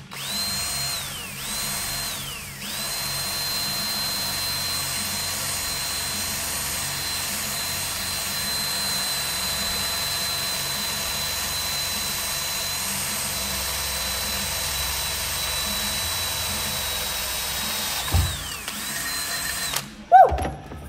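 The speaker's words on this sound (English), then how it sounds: "First, we're going to drill the holes into here." A power drill boring holes for homemade tree climbing spikes, a steady loud whine running continuously for most of the clip, with brief pitch dips as the bit starts and stops, ending in a few clunks.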